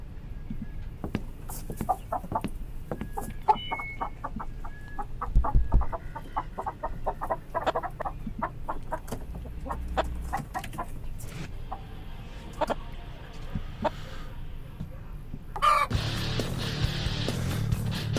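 Sound effects for a Radio Chicken show intro: chicken clucks and fowl calls come in a rapid series of short bursts, with a louder, brighter burst of sound near the end.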